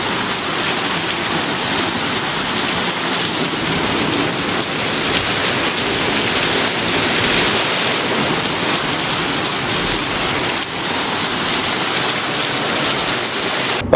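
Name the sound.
heavy rain pouring during a thunderstorm in Goa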